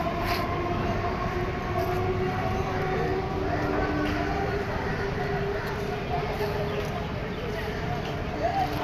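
Train noise at Park Circus railway station while waiting for a Budge Budge train: a steady, loud rumble with faint tonal whine that holds without a break from start to finish.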